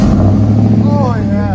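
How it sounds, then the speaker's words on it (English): Chevy Silverado 5.3L V8 with a Vibrant glass pack exhaust, wide pipe, 2 1/4 tailpipes and 5-inch tips, gives a deep, loud rumble that climbs in a quick rev near the end. "Vibrant exhaust, wide pipe, 2 1/4 tailpipes, 5-inch tips."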